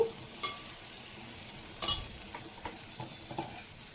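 Fish pieces fry in a pan and are flipped, with a soft continuous sizzle broken by several scraping clinks and taps from the utensil against the pan.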